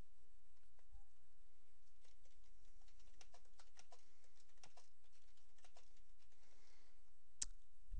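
Typing on a computer keyboard while writing a close description for a ticket in an office program, a quick irregular patter of key clicks over a low steady room hum.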